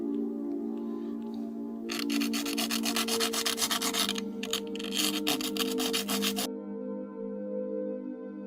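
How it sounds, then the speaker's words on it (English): Sandpaper rubs steadily back and forth along the edges of a small craft piece made from river finds. The close, raspy strokes last about four seconds over a constant hum and then stop abruptly. "I'm just going to sand the edges, and I don't want any more bits to chip off it."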